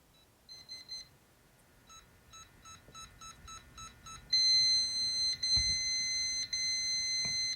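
A Kwikset SmartCode commercial-grade lever lock gives short electronic beeps for keypresses, then a sustained loud tonal alarm after three failed code attempts, pulsing in long steady blasts.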